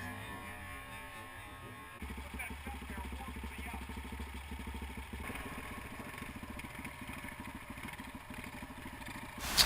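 A Kawasaki KLX400 dirt bike engine runs at a steady, fairly distant putter with some clatter under a constant background rumble during a small jump at camp.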